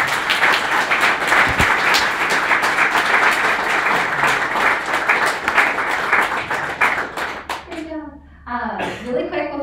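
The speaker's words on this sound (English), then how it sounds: "Can we give our speakers another round of applause?" Applause from a tech meetup audience for the speakers in Seattle, steady dense clapping for about eight seconds before thinning out, with a voice starting to talk near the end.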